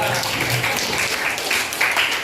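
An audience applauds a first-place winner at a teacher training session, producing a brief, steady burst of clapping.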